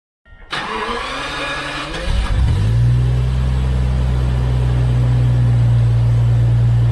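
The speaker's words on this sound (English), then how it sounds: "It just brings out that noise of the V12." A Jaguar XJS V12 engine cranks and catches, then settles into a loud, deep, rumbling idle that swells as it revs, close by with no talking.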